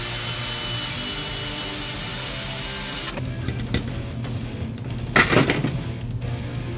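Motor of a GM B-body two-way power bench seat track, a steady whirring hum running for about three seconds, then stopping into quieter mechanical clicks and a short louder scrape, close up with no talking.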